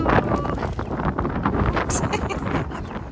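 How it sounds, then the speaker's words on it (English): Wind buffets a microphone outdoors on a snowy winter day, making a loud, continuous rumbling roar with uneven gusts across the whole stretch. "put my hand in front to block the wind"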